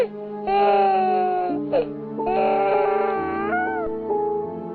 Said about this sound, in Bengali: খুব মিহি কিন্তু স্পষ্ট একটা বাচ্চার কান্নার শব্দ।